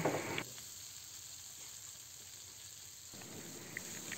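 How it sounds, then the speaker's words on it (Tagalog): Kangkong goes into a pan of frying pork belly and tofu, with a brief loud rustle at the start and then a steady, quiet sizzle that continues to the end. "Ilagay na din natin ang kangkong."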